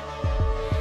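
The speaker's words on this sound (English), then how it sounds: "The hydrocarbon alarm sounds like." An oil rig hydrocarbon alarm drones on in a steady electronic tone, with a low throbbing pulse swelling in three times underneath it.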